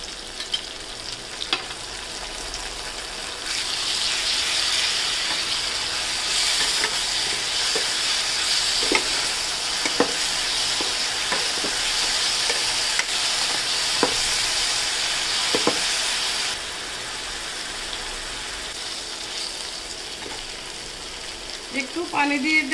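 Onion and garlic paste sizzles and fries steadily in a hot pan for a pasty fish curry, with a bright continuous hiss and occasional stirring clicks, close and fairly loud, with no talking.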